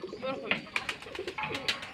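Pigeons on a pigeon farm coo in short burbling bursts close by, while someone talks over them throughout.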